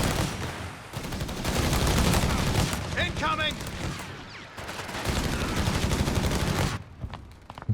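Anti-tank rifles fire in a Company of Heroes 3 battle, sharp repeated shots mixed with other gunfire and explosions in a dense, loud barrage, with a commentator talking over it.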